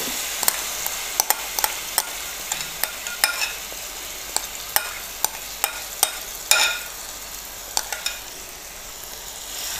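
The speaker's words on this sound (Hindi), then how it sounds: "तेल गरम हो गया है अब ये जितना भी ये चिकन है इसमें डाल देना" Chicken frying in hot oil gives a constant hiss of sizzling, punctuated by a dozen or so sharp clinks and scrapes of a utensil against the pan, close and without talking.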